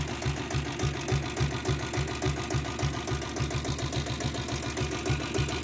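A single-owner 7.5 HP self-start diesel Royal Enfield Bullet runs at idle, producing a close, even, rapid thumping beat that continues steadily without any voices.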